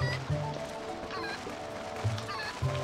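Chickens clucking in the video game The Legend of Zelda: Twilight Princess, short low squawks bursting out several times over game background sounds, alone with no talk.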